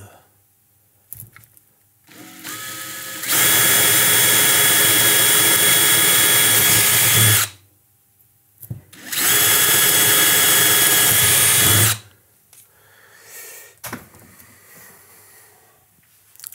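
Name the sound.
drilling holes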